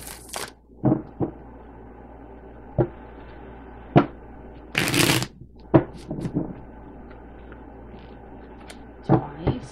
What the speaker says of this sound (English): let me give them a good shuffle real quick